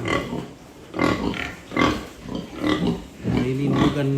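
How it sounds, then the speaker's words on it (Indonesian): A breeding sow grunts repeatedly on a pig farm, loud and close, in a rhythmic series of low grunts under faint background chatter. "Nah, ini indukan juga ini."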